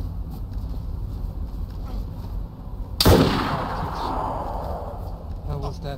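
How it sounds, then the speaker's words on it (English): A single sharp, loud gunshot rings out midway through a tense scene in the video game Darkscape, followed by a fading echo, with voices talking throughout. "We're getting shot at, hurry up. Oh fuck, they're shooting at us."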